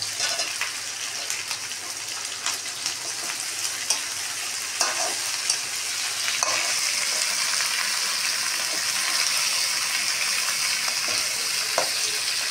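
Turmeric stirred into chilli paneer and broccoli frying in a pan, with steady loud sizzling and intermittent scraping stir noises, growing denser toward the end.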